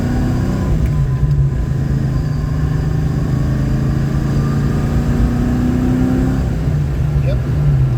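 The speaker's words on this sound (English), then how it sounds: "nice, steady, not super heavy, but you know, 3/4 throttle-ish roll on. Very happy car." A Foxbody Mustang engine makes a steady partial-throttle roll-on, a close, continuous drone whose tone climbs gradually, with a voice talking over it.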